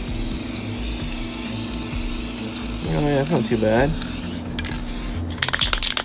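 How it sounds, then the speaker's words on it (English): An aerosol can hisses out flat aluminum high-heat engine paint in a few short bursts near the end, after someone speaks briefly over a steady background hum. "We're actually gonna spray this next with some flat aluminum high heat engine paint."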